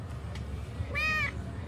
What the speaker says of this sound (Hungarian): Cicavárosba találtam egy cicát is